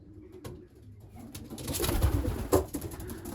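Young racing pigeons coo softly inside their loft, low throaty calls repeating under a quiet background, building slightly toward the middle with a louder flutter or scuffle near the end.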